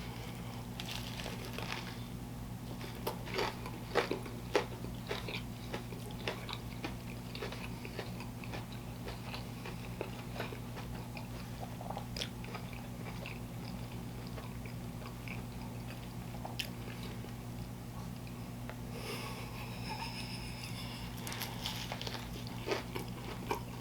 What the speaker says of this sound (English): Can y'all hear that crunch?